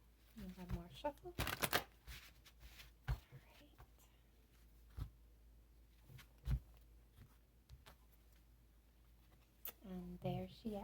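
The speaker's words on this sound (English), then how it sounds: "One more shuffle" Tarot cards are shuffled close up in quick papery riffles and soft taps, with a voice speaking briefly at the start and again at the end.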